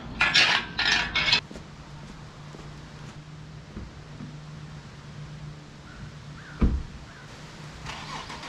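A car engine cranks and catches with a few rough bursts, then settles into a low, steady idle as the car rolls slowly into a garage.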